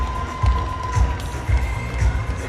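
A boxing crowd at a live fight night cheers and roars as spectators rise to their feet, a loud, dense wash of voices surging in rhythmic pulses, with a faint steady tone running underneath.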